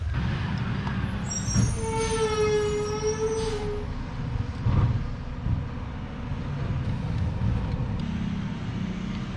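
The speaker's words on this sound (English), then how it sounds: "we have a big truck in the neighborhood." A big truck rumbles close by in a neighborhood with a steady low roar, and a drawn-out high-pitched brake squeal rises for a couple of seconds.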